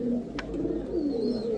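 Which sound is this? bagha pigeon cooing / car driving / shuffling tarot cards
bagha pigeon cooing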